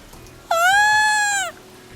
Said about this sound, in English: A tiny black kitten, barely older than a few weeks, soaked to the skin and tangled in the low branches of the bent tree